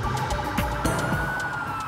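An ambulance siren wails continuously on a road, heard at moderate distance and mixed with traffic and vehicle noise, with no one speaking.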